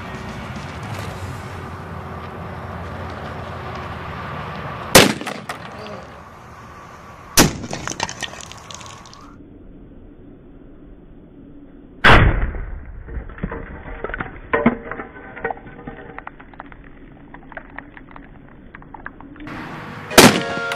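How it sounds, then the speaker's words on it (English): A 30-06 rifle fires a 180 grain bullet into a test block while building domes are being tested. Several sharp, loud cracks stand alone, separated by quiet stretches, and each is followed by a brief ringing decay. "now we're gonna shoot with the 30-06. This is a 180 grain bullet, and we're gonna shoot the block first and then the dome"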